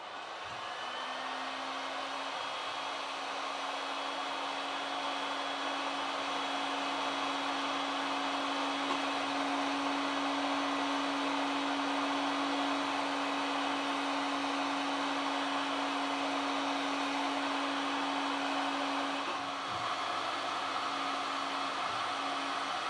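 A heat gun shrinks heat-shrink tubing over cables, producing a steady, loud blowing roar with a faint whine that runs unbroken for over twenty seconds, close by and with no talking.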